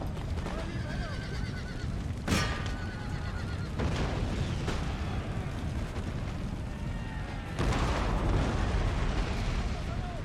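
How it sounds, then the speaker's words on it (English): Artillery fires canister shot on an Empire: Total War battlefield. Sharp cannon blasts land at several points, the loudest near the start and a heavy one late on, over constant battle noise, with a narrator talking throughout. "we're going to start firing more canister through them"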